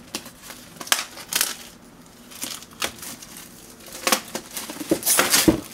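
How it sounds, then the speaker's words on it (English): Plastic packaging is peeled and torn off an annotated Watchmen collected volume, close crinkling and crackling in irregular bursts with short pauses, growing busier toward the end. "So let's unwrap this."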